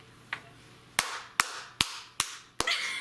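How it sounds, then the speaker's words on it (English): Around six sharp, separate hand claps ring out close by at an uneven pace, with a softer clap at the start and no voices. "Clap for me."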